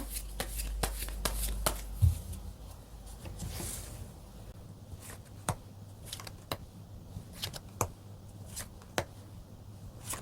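Tarot cards are shuffled and drawn close by in a quiet room, producing sharp, scattered riffles and soft flicks with brief pauses between them.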